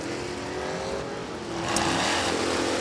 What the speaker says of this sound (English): His 67 Camaro.